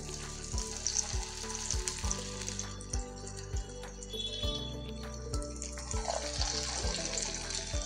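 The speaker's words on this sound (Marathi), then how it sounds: "आता आपण एक एक करून भजी सोडायचे आहेत" Small bhaji fritters made from a fasting-day batter sizzle steadily in hot oil, with soft bubbling throughout and faint regular ticks in the background.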